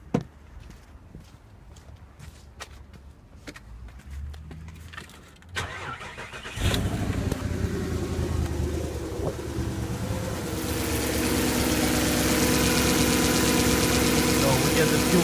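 A VW Touareg / Audi Q7 sits quiet with faint clicks before the engine cranks and catches, then settles into a steady idle that grows slightly louder and brighter as it keeps running.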